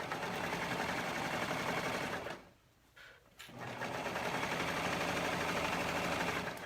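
Sewing machine stitching elastic into the leg opening of a tankini swimsuit, a steady loud whirring run that pauses briefly in the middle and then resumes, with no talk.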